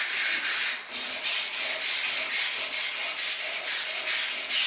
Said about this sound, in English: We use about 180 grit or 240 grit sandpaper and then sand it off